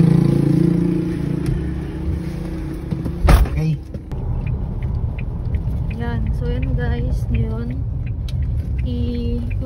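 A customer's car is driven home from a repair shop in Paliparan, its engine and road noise steady and close inside the cabin while people talk over it.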